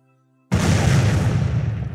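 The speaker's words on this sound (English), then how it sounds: "Another mortar round landed nearby" A mortar round explodes nearby in a wartime scene, bursting from near silence into a single loud, deep boom whose rumbling roar sustains and slowly fades.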